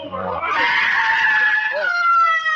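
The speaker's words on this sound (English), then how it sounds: "She screams like that every 15 minutes." A woman screams in a radio drama, a loud, sustained, wavering shriek lasting a couple of seconds and rising in pitch, heard close and alone.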